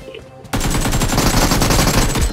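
Sustained automatic gunfire in Peacekeeper Elite during a fight at the airport, starting abruptly after a quieter moment and continuing as a loud, dense, rapid rattle of close shots.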